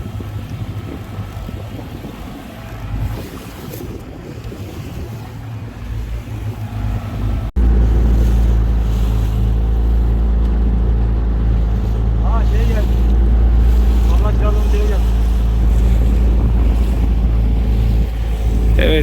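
A steady, loud motor drone with water rushing from a 9.8 Tohatsu outboard on a 4.50 boat running near a marina, preceded by quieter engine and splashing sounds.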